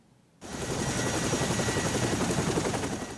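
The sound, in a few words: Chinook helicopter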